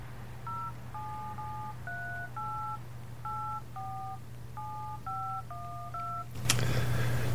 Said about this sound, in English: Who am I dialing here?